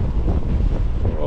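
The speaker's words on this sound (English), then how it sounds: "Oh, that wind." Wind buffets the microphone while riding a HeyBike CityRun electric bike, a loud low rumbling roar filling the whole brief moment.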